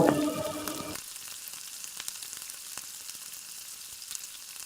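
Meat and potatoes being stirred in a pan as spice-rinsing water goes in, a loud splashy sizzle at first that settles into a quieter bubbling with scattered utensil clicks.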